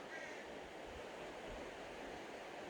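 A river flows just below a campsite in the Hoh Rainforest of Olympic National Park, a steady, soft broadband rush of water that stays even and faint throughout, with no talking.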